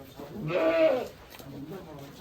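A goat bleats once, a wavering nasal cry close by, with other faint sounds around it, on a livestock farm on Mount Merbabu.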